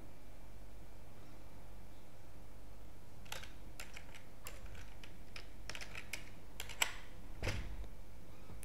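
Typing an email address on a computer keyboard, irregular quick clicks of keys starting after a few seconds of quiet room hum, close but soft, with a slightly louder tap near the end.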